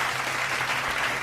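A brief burst of audience applause at a political gathering, dense, even clapping from many hands, loud and continuous across the whole moment.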